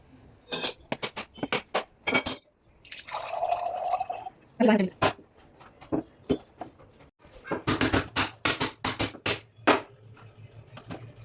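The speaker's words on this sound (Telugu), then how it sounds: "కొబ్బరికాయలు అయితే నీళ్ళు బాగా సౌండ్ వస్తుంది." Sharp, irregular knocks of a coconut being cracked open, followed by splashing and trickling water; a voice murmurs briefly in between.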